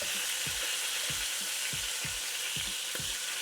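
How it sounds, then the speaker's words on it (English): Chicken frying in rendered fat in a pan gives a loud, steady sizzle throughout, with soft rhythmic low thumps as pieces shift, and no voices. "It's frying in all of that fat."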